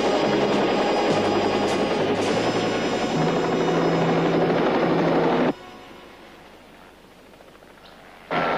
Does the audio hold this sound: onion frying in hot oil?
no